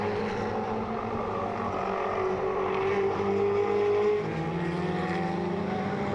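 Ferrari Challenge race cars circle the track at Circuit of the Americas during a Trofeo Pirelli race, a continuous engine drone with shifting pitch as cars pass at a distance, steady and moderately loud, without talking.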